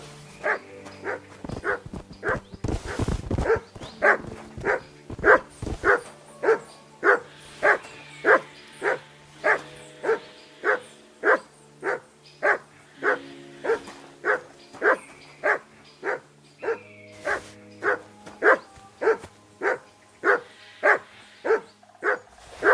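A dog in Kingdom Come: Deliverance II barks in a steady, evenly spaced run of about thirty loud, close barks, with a short burst of rustling clatter near the start.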